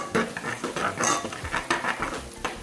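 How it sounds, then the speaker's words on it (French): A spoon stirs quinoa in a pot of boiling water with the heat being switched off, giving rapid scraping clinks of metal against the pot in quick irregular strokes, close and fairly quiet. "On mélange rapidement."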